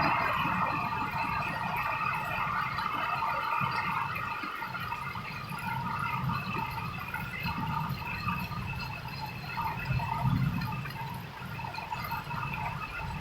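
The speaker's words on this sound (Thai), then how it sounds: "มันเป็นพายุนะคะพายุ" Steady, heavy rain from a storm hisses and patters against a window throughout, with a low rumbling wash of wind and water beneath it.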